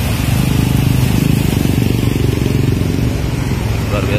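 A motorcycle rides through flood water in Jungkat, Pontianak, its exhaust submerged. The engine drones loud, close and steady throughout, with a rough churning edge.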